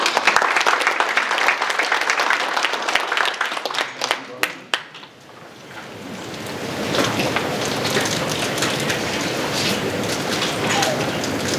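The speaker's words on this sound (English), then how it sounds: "So let's welcome Barbara." Steady applause from a franchise summit audience welcoming a speaker, broad and continuous, with some scattered claps and murmur early on before settling into an even wash of clapping.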